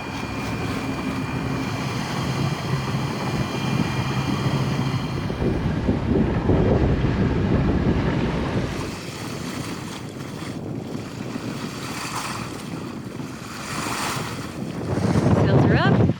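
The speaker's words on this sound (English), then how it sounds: "Sails are up. Spirits are high. Let's go." Sailboat under way off Barra de Navidad with sails up, steady wind buffeting the microphone over continuous rushing water and waves against the hull, a gust swelling near the end; a voice speaks faintly beneath.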